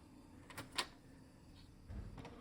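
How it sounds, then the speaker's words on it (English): Canon PIXMA TR4720 printer's front drawer, small tray and black door being lowered, giving a few faint plastic clicks and a soft thud, very quiet and close. "lower this drawer, lower also this small tray, and finally lower this black door"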